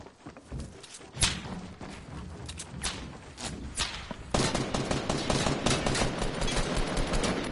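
Gunfire in Fortnite, with repeated sharp shots across the clip, a few isolated reports early and then denser, louder rapid fire from the midpoint onward, heard without talk.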